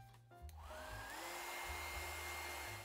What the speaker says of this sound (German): oder mit dem Föhn diese Bereiche jetzt trocken föhnen